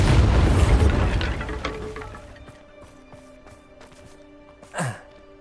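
A Bombarda spell in Hogwarts Legacy on PS5 bursts into a loud, deep rumbling explosion that decays over about two seconds into debris rattles and faint tonal hums, followed by a brief whooshing sweep.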